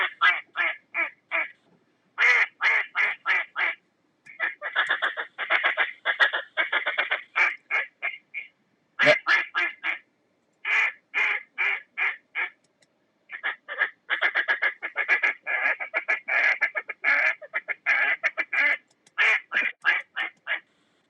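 Rapid bursts of duck calling imitating a hen mallard, sharp quacks in quick, rhythmic runs separated by short pauses, loud and close with no other sound.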